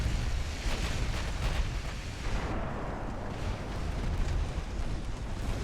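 Main-gun high-explosive shells fired in Ultimate Admiral Dreadnoughts, a heavy rolling boom of naval gunfire with a broad rumbling wash that shifts midway and stays loud throughout.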